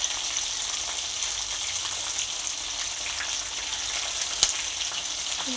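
Onion, green chillies and curry leaves frying in oil with a steady, close sizzle and faint crackles throughout, a single small pop near the end and no talking.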